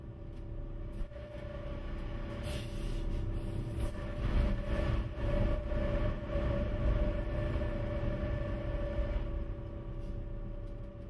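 A Glacier Express passenger train in Switzerland rumbles along steadily, wheels clattering on the rails with a low hum and occasional squeals, moderately close, no voices.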